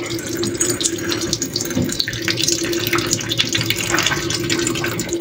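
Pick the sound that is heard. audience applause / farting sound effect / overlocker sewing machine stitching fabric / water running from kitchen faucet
water running from kitchen faucet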